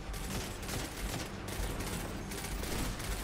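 Continuous, dense volleys of gunfire from Destiny, a steady, rumbling wash of overlapping shots at moderate level with no clear gaps and no talk.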